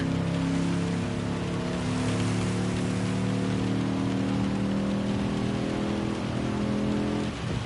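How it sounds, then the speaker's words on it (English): Heavy rain pours during a race in the video game Gran Turismo 7, a dense, loud wash of rain noise over a steady humming car engine throughout. "the rain came out, and then the rain picked up heavier than we expected"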